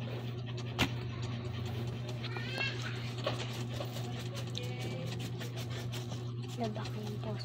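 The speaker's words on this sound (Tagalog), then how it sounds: "Dalawang pusa nakabantay." Cats meow at a butchering spot as meat pieces are chopped, brief cries rising over a steady low hum and background activity, with people talking faintly nearby.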